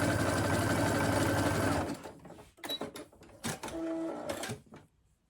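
Sewing machine stitching a wide zigzag to attach an appliqué patch on a child's trouser knee: about two seconds of steady, rapid mechanical whirring up close, then it stops and a few light clicks and taps follow.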